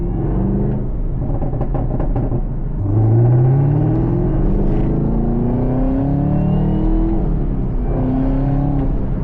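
A 2022 Chevrolet Camaro ZL1 V8 heard from inside while driving, a loud steady engine rumble that climbs in pitch under acceleration, drops through a shift, and revs again, with no talking over it.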